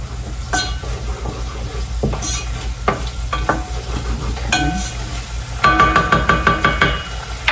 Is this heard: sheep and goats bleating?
no